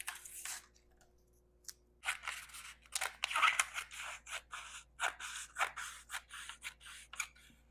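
Scissors snip through a paper dress pattern in a quiet room, making a run of soft, crisp cutting crunches that come in an irregular rhythm and grow steadier as the blades work along the line.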